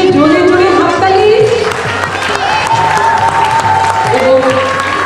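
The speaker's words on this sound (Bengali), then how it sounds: "অসংখ্য কর্মী মিলে জোরে জোরে হাততালি।" Loud, sustained applause from a theatre audience at the close of a dance drama stage performance, continuous for the whole stretch and mixed with music and voices.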